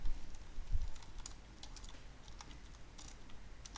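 Someone types JavaScript code on a computer keyboard, making quiet, irregular clicks and taps in short bursts over low room noise, with no talking.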